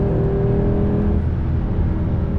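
A car's engine runs steadily with a deep, rough low rumble and a slight rise in revs, loud and close, with no voices over it.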